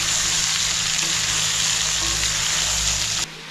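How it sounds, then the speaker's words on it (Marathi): Ridge gourd frying in hot oil, a loud, dense, continuous sizzle close up that cuts off abruptly just before the end. "तेलामध्ये शिरोली टाकली ना चांगली फ्राय करून घ्यायची थोडी"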